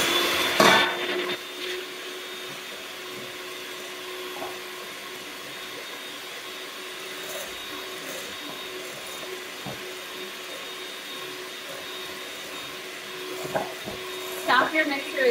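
An electric mixer runs on high speed beating to stiff peaks, a steady whirring hum throughout with a few clatters near the start and end.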